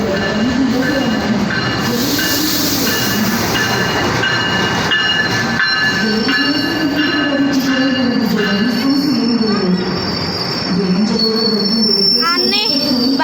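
A KA Cikuray passenger train in Indonesia rolls past close by, wheels squealing loudly and steadily over a continuous rumble, with faint clicking of the rails.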